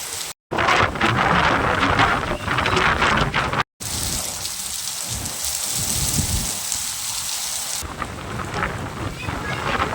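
Heavy rain with hail pours down in Nagpur as a dense, loud, steady roar of drops hitting surfaces, with low rumbling underneath and two brief cut-outs early on.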